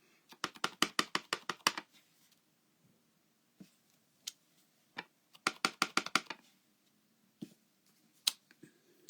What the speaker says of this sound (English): I'm going to just stamp 3 butterflies on this